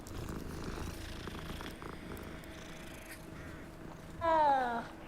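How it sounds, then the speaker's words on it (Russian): Cat purring in the video game Hogwarts Legacy, a soft low rumble under faint background ambience, followed by a short, louder meow near the end. "О, кот."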